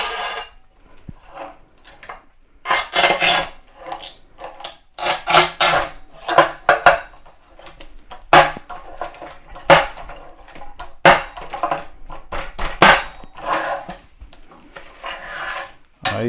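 Montolit Masterpiuma P5 tile cutter scoring a mosaic tile, a series of close, dry rasping scrapes in irregular bursts with short pauses between strokes.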